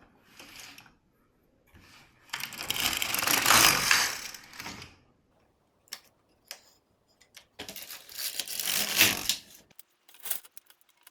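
An LK1 knitting machine carriage is pushed across the needle bed to knit a row for socks, heard as two bursts of rattling, clicking mechanical noise with short ticks and pauses between them, close and alone.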